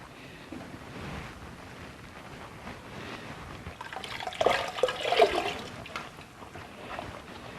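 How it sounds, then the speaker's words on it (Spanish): A sewn leather shoe is handled and soaked in warm water, giving soft sloshing and swirling splashes that swell in the middle before settling, faint and close with no talk. "Una vez cosido el zapato, Antonio debe humedecerlo en agua templada hasta que se ablande y poder así darle la vuelta."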